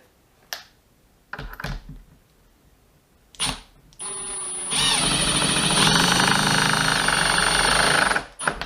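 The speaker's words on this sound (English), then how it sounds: "We'll use the hydraulic drive, this one here, first. We'll pop some screws in down here, first of all." A hydraulic drive drives 4x50 single-thread woodscrews into timber, beginning with a few sharp clicks and knocks before a loud, steady whirring drive lasting about four seconds that cuts off abruptly.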